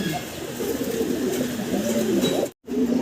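Pigeons kept for breeding coo in soft, repeated low calls, close by over a steady background hum, with a brief dropout near the end.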